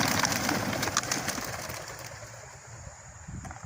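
Homing pigeons released for a training toss take off in a flurry of wingbeats and cooing, the flapping loud and close at first and thinning out as the birds move away, with wind noise underneath.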